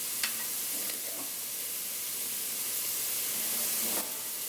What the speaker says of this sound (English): Just flipping the fish over in the pan so that both sides can be poached before it completely falls apart on me